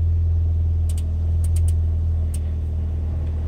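A Ford Fiesta ST fitted with an aftermarket rear motor mount idles with the air conditioning on maximum, giving a steady close low engine hum with a few faint clicks and no talking.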